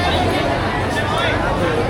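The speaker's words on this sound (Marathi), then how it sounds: "गणपतीपुळेला आलो तर खरं पण गर्दी बघा" Dense crowd of visitors at Ganpatipule temple fills the air with close, constant chatter and babble, many overlapping voices and no pause.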